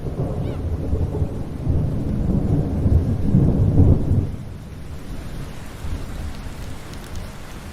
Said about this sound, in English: Now I've been waiting and waiting for some rain, and it's finally here